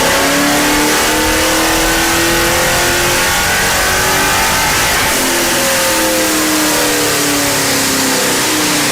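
A procharged 2002 Pontiac Trans Am with an F1A94 supercharger revs hard on a dyno with a miss under load, its loud engine note climbing steadily in pitch, dipping briefly, then building again.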